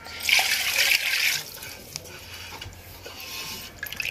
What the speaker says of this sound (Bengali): তাই আমি সেই পরিমাণ মতন এই পানিটা দিয়ে দিচ্ছি